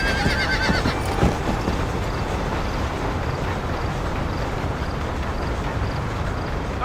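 A horse whinnies in a video game, a bright neigh at the start, followed by steady hoof clops and a constant rumbling travel noise throughout.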